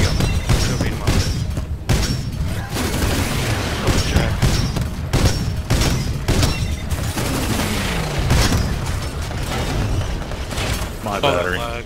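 Loud, dense video-game gunfire: rapid overlapping shots and heavy booms fire almost without pause, with a brief voice near the end.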